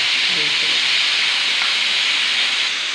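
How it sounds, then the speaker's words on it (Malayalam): A pressure cooker cooking ghee rice vents steam through its whistle as a loud, steady hiss that holds for the full stretch, close by and dominant, with no talk over it. "ഒരു വിസിൽ കൂടി വെച്ചാൽ നമുക്ക് കുക്കർ ഓഫാക്കി ചോറ് നോക്കാം"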